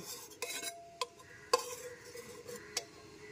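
Garam masala being stirred into a thin mutton curry in a pot, a few soft scraping strokes and light clinks of a spoon against metal at close range, quiet with no talking.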